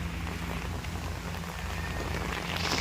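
Rain falls steadily at Coney Island, a dense, even hiss of drops on surfaces close by, with no voices. It holds at a constant level throughout and swells slightly at the very end.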